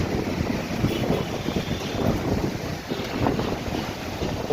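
A Kalbaishakhi storm lashes an oil pump station, with strong gusting wind buffeting the microphone and a steady roar of rain and blowing noise throughout.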